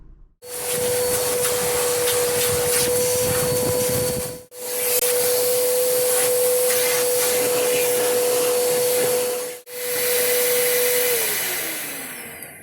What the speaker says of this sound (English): I'm going to vacuum this out really good.